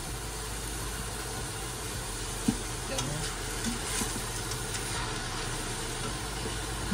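Ground pork sautés in a pan, a steady low sizzle with occasional utensil clicks and scrapes and a brief knock partway through, with no talk over it.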